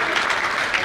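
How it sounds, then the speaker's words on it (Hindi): Audience applause at a Hindi comedy poetry show, a dense, continuous clapping from a crowd filling the whole brief moment. "आप सभी ने ताली बजाई, बहुत अच्छी बात है।"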